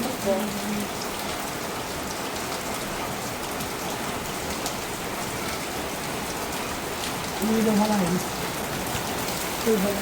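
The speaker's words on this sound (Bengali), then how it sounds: "এই যে বৃষ্টি শুরু হয়েছে" Steady rain pours down across a surface in a continuous hiss, loud and close, with a couple of faint voices briefly audible beneath it.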